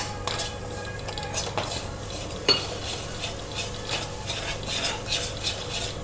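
Green and red chilies with spices are stirred in a pan for jackfruit kofta curry. A spoon scrapes and clinks against the pan at an unhurried pace over a soft, steady sizzle.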